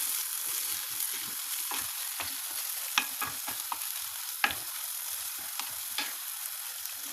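Liver stirred and frying in a pot for liver plov, a soft steady sizzle broken by scattered scraping and clinking of the utensil against the pot, no voices.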